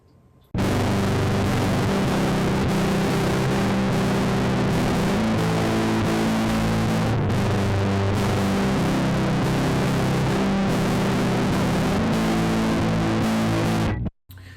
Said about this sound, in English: here's a little fuzz added onto that one